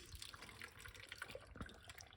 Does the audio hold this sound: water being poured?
yes